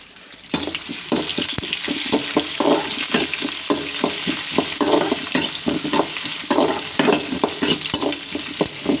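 Shallots fry in a hot pan with a steady hiss, joined by rhythmic scraping stirs that start abruptly and continue close-up for several seconds.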